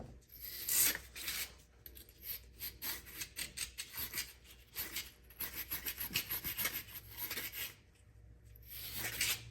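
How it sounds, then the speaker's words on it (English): A bore brush scrubs inside the barrel of an International D310 diesel injector with quick, rhythmic back-and-forth rasping strokes, close and fairly loud, each pass a short scratchy burst. "now I'm gonna send this bore brush down here"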